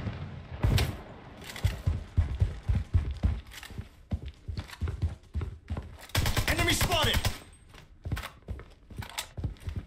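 Bursts of gunfire crack out in the shooter video game Project Bloodstrike, irregular shots and a longer sustained volley mixed with footsteps and mechanical clicks, loud and close.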